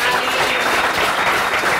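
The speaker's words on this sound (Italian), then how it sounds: "Un applauso." Dense, steady applause fills the air at an Italian championship celebration for Ravens Imola, loud and continuous throughout without a break.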